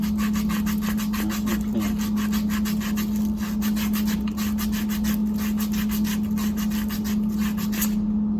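Rapid rhythmic rasping as copper pipe is scraped clean before soldering, a close, steady back-and-forth scrub over a constant low electrical hum, with no talking.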